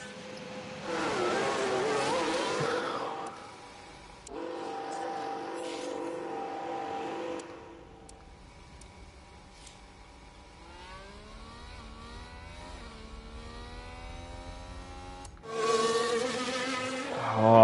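F1 car engines whine on track in the F1 Manager 22 video game, high buzzing tones rising and falling as cars pass, moderate in loudness with quieter stretches between louder passes.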